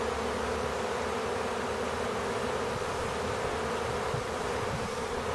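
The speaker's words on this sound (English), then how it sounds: "That fanning sound is spreading the pheromone of the queen, who apparently is in that box." Honeybees from a swarm caught out of a house fan at the edges of a swarm box, a dense, steady close buzzing drone that holds without break, with no voices.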